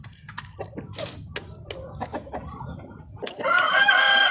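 Chickens clucking near ducks on a farm, with scattered close clucks and calls, then a loud rooster crows near the end and holds over the other birds.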